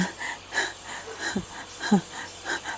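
Someone short of breath after talking at length wheezes and gasps, with repeated raspy, rhythmic breaths close to the microphone and a couple of heavier gasping intakes.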